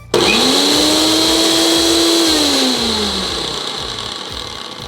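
A Havells Capture mixer grinder runs on its manual setting, its motor starting abruptly and spinning up to a loud, steady whine that drops in pitch as it slows, with a rattling jar hum throughout.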